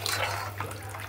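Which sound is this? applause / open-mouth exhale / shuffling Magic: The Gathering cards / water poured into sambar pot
water poured into sambar pot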